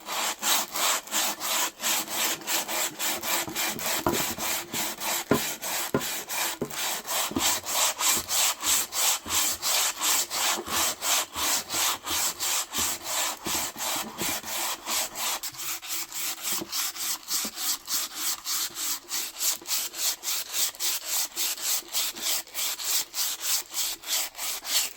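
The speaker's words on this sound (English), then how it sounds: "Now we gotta sand everything down." A wooden handle on a Harbor Freight fireman's axe is sanded by hand, making loud, close, fast back-and-forth rasping strokes in a steady rhythm throughout, with no talking.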